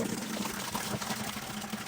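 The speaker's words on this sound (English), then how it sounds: "I'm going to start out by dumping our vinegar in the water" Vinegar pours steadily into a bucket of water in a household setting for flushing a tankless water heater, a continuous splashing trickle, close and moderately quiet, with no talking.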